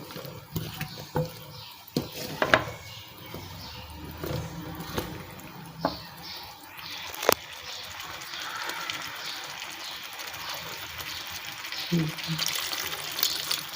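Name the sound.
water being poured into a pot of turnips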